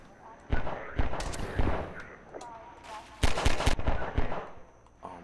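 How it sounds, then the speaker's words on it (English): Gunfire in Half-Life 2: several sharp, loud shots and short bursts in clusters with gaps between them, while a player talks over the action. "Damn, dude, stop shooting at me."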